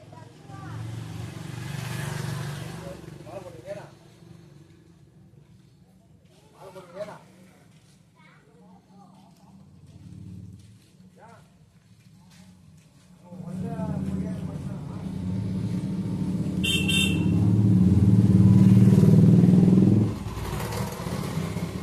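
Vehicles and motorcycles passing on a busy main road outside a tailoring shop, a rumbling traffic wash that swells loudly in the second half, with a voice talking over it earlier.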